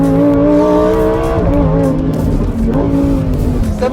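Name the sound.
Lamborghini Huracán STO accelerating on track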